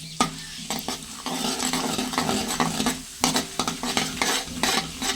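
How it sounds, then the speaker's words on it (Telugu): Cumin, mustard and fenugreek seeds, along with urad dal, are stirred in hot oil, giving a sharp crackling sizzle with brisk, repeated scraping strokes of a spoon against the pan. "ఇలా వేసుకుని ఒకసారి మిక్స్ చేసుకుందాం."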